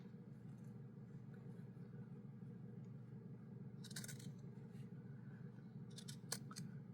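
Sharp scissors trim through fabric scraps for small sewn heart ornaments, giving a few quick snips around the middle and a cluster of crisp cuts near the end over a steady low room hum.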